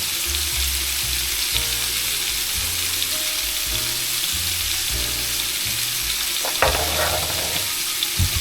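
Vegetables fry in a pan at a campsite, a steady close sizzle with occasional stirring scrapes and clatter, no talking.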